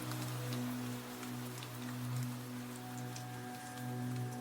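Steady rain patters on surfaces in a soft, continuous hiss, with scattered droplet ticks over a low, constant hum in the background.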